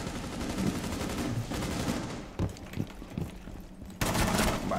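Rapid gunfire in the shooter game Rainbow Six Siege, loud sustained bursts of automatic shots with short pauses between volleys.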